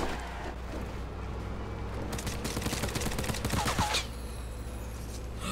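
Gunfire in Fortnite rings out at a distance, a rattling burst of rapid shots over a low car engine rumble, moderately faint, followed by a few sharper cracks.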